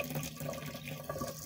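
Steady stream of water running from a tap, a continuous soft splashing hiss, fairly faint and alone.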